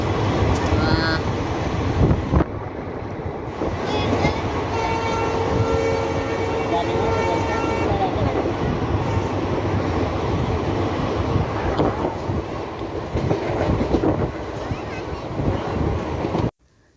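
A train rumbles through Basar railway station with horn-like tones and clattering, while people talk in the background throughout.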